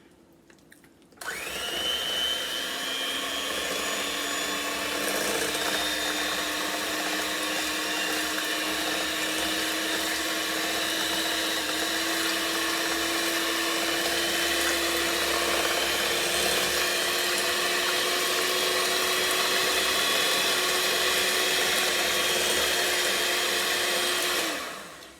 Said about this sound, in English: let me get my mixer. And then we're going to mix this till it's smooth